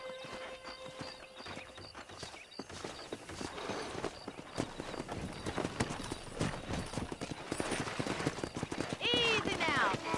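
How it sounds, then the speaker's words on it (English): Wild horses gallop in the Red Dead Redemption video game, with hooves clopping steadily through a busy ranch soundscape and a horse whinnying near the end. "That ranch hand said there's a pack of wild horses nearby."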